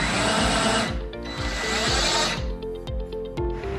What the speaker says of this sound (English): The only thing you can do is retract the boom by pushing the button.